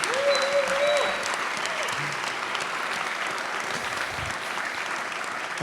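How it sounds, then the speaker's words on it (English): A crowd at a Latina graduation celebration claps steadily for graduates and their families, dense sustained applause with a brief whistle or cheer near the start. "So another applause to you and to your parents and to everybody who was here"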